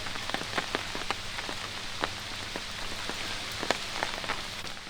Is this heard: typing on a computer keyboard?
no